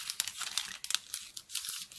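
Scissors snip through a cellophane bag along its seam, giving crisp crinkling and tearing crackles in quick irregular bursts, close up and fairly quiet, with no voice.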